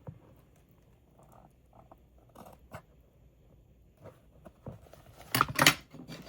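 Scissors trimming craft paper on a garden door journal, a few soft snips and rustles close by, ending in a louder burst of crisp paper cutting.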